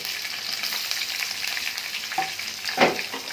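Prawns coated in spice masala and salt fry in a pan with a constant bright sizzle, then a louder crackling burst near the end as more goes in, no talking.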